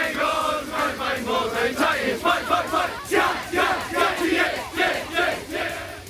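A high-school football crowd cheers for the Titans at a Division V semifinal in Michigan, with loud, continuous massed shouting and rhythmic chanting surging in waves throughout.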